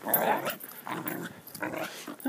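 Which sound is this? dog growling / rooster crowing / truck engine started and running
dog growling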